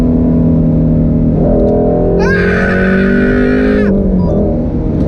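A Shelby GT350 engine revs hard, its tone climbing steadily to a high, screaming pitch before dropping off, loud and close.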